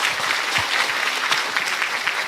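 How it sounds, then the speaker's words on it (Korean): Applause from a lecture audience in a Korean talk hall, a dense, steady clatter of many hands clapping together for the speaker, sustained and fairly loud throughout with no voices over it. "선생님께 박수 한번 주십시오."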